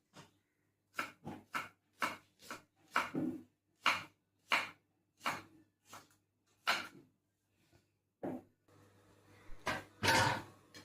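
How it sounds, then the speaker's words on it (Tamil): An onion being finely chopped with a knife while making a white peas kurma: a series of sharp, close knife taps on a board in an uneven rhythm with short pauses, with no one speaking. "ஒரு வெங்காயத்தை நல்லா பொடிசாக வெட்டிக்கணும்"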